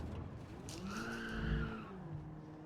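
Racing video game crash as a race car is struck by a Ferrari F40 and a Lamborghini Huracan, tires skidding and squealing in rising and falling tones over a steady engine drone, with a heavier thump midway.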